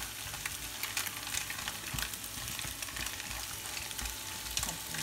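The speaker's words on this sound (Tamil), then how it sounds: "அப்போ முட்டை இதெல்லாம் போட்டு இப்போ நல்லா எல்லாம் கிளறிட்டோம்." Restaurant-style chicken fried rice with egg is stirred in a hot pan, giving a continuous close sizzle with repeated scraping and tossing sounds and no talking.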